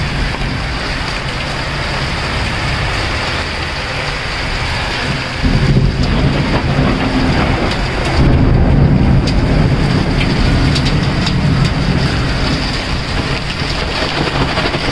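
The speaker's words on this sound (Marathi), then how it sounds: "अवकाळी पाऊस आहे हा." Heavy unseasonal afternoon rain pours in a continuous loud roar, with low rumbles of thunder swelling midway and some wind, heard close and without voices.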